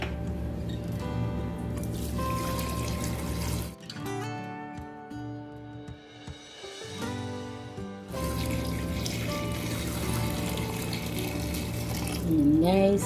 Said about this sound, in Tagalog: nilagyan na po natin ng tubig